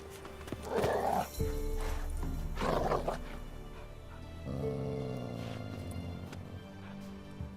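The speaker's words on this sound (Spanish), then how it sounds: "Y un pobre perro. Le estaban atacando al perro." In The Witcher 3 video game, a dog is attacked, giving two rough, snarling bursts of growls and yelps over a steady background game ambience, followed by a lower, drawn-out animal sound.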